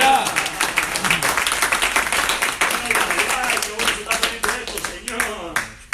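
A church congregation claps together in praise of Christ, a dense, steady burst of applause mixed with voices calling out, lasting throughout.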